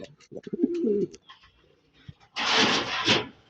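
Racing pigeons coo in a few soft, rounded calls up close, then a burst of broadband rustling or wing flutter follows near the end.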